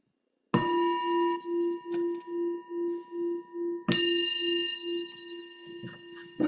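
A meditation bell rings twice, each strike leaving a clear, sustained metallic tone that decays slowly and pulses as it fades, heard alone in an otherwise quiet space.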